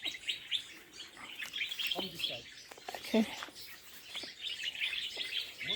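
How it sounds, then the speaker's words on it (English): Many colorful birds sing and chirp in Abuko Nature Reserve in Gambia, with bright, overlapping tweets at moderate distance and a quiet voice briefly speaking in between. "There's so many colors, so many different types of birds."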